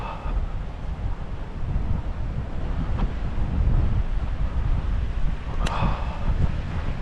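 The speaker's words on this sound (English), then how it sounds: "There's a better view of the stream coming down" Water from a waterfall rushes steadily down a stream outdoors on Whernside, a continuous broadband roar with wind buffeting the microphone throughout.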